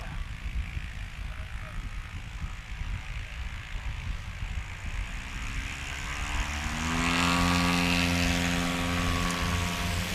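A small STOL propeller airplane lands on a grass runway in a crosswind, its engine drone rising and swelling into a louder, nearer tone in the later seconds over low rumbling.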